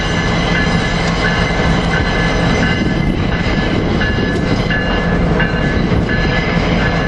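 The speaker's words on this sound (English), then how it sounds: "I finally got Amtrak ACS 64 654, leading train 92 from Miami to New York" Amtrak ACS-64 locomotive 654 leads train 92 from Miami to New York past at close range, a loud continuous roar of rolling cars with rhythmic wheel clatter and faint high squeals, no voices.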